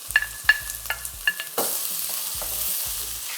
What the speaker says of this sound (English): I'm going to let this saute for about 45 seconds or 1 minute.